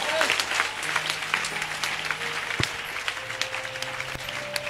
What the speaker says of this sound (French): Acclame très fort Jésus